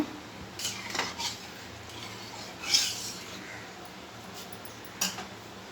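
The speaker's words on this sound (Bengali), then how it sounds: "পরিমাণ মতো তেল দেবো এগুলো লেড়ে দেবো" Lentil and bottle gourd curry being stirred in a cooking pot, a few faint clinks and scrapes of a utensil against the pot spaced out over a quiet background.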